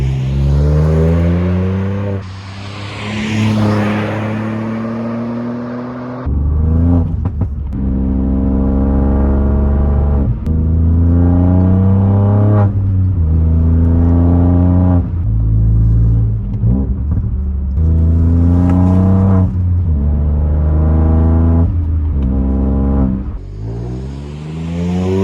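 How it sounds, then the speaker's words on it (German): Ford Fiesta ST three-cylinder engine with a Milltek exhaust pipe and no particulate filter, revving loudly and repeatedly with rising and falling throaty blats, close and sustained throughout. "was dieser Dreizylinder raustönt, das ist echt eine Freude"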